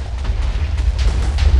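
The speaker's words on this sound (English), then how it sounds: "Darkness, are those explosions you or?" Explosions in a Minecraft Feed The Beast modpack game, a rapid run of loud, rumbling booms rolling one into another without a break.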